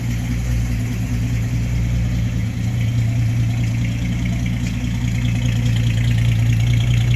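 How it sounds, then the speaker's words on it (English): A 1950 Nash Ambassador Super engine idles steadily and alone at close range, with a low, even rumble that holds constant throughout. "You can see here the car's idling quietly."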